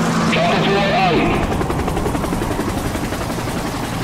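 A helicopter in Infected: The Twin Vaccine gives a steady, loud rotor drone that fills the scene, with a voice over it at the start.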